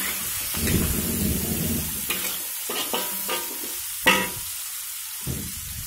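Shrimp with a spice paste and tomato fry in a pan, a close sizzle under repeated scraping and stirring strokes, one louder clatter about two-thirds through and short quiet gaps between bursts.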